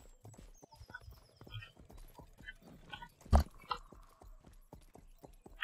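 Steady clip-clop of horse hooves while riding in the video game Rustler, a quiet rhythmic trot running throughout with a sharp thump partway and faint game sounds.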